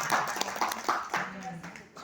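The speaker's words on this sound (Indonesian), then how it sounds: "Tepuk tangan buat kita semua." Participants at a group gathering clap in scattered, uneven bursts, several distinct hand claps close by, mixed with voices talking over them.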